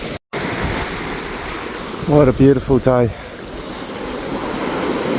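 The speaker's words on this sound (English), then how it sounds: "Pretty mild sort of waves, but still there's some." Mild ocean waves on a beach near Broome, a continuous broad wash of surf close by, with wind noise on the microphone, a brief dropout at the start and a person speaking briefly midway.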